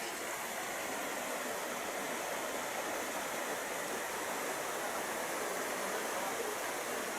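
River Aog in Barangay Marugluca flows in a steady, broad rush of water, continuous and fairly close, with no voices over it.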